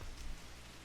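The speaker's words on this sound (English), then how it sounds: "The sound of rain and Shoichi's peaceful breathing quickly lull me into sleep." Steady rain falls in the game Tennis Ace, a soft even hiss of drops with no voices, faint and continuous throughout.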